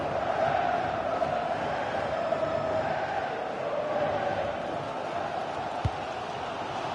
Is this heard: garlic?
no